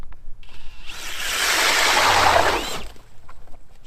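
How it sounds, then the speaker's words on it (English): A StrikeMaster Lite-Flite cordless drill ice auger whirs and grinds through about 4 inches of ice for about two seconds, a loud, gritty churning that starts and stops abruptly. "I'll pop a few holes, show you guys how it cuts"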